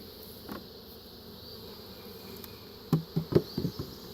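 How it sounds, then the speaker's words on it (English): Honey bees in an open hive buzz steadily in a low hum, with a few sharper close passes near the end as insects fly right by. "I got some bees in this one."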